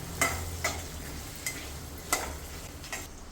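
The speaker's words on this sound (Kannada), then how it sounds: "ಸ್ವಲ್ಪ ಇದರಲ್ಲಿ ನಾವು ಫ್ರೈ ಮಾಡ್ಕೊಳ್ಳೋಣ." Semolina (rava) being dry-fried and stirred in a pan for kara ghee pongal, with a soft steady sizzle under a handful of sharper scraping strokes spaced about half a second apart.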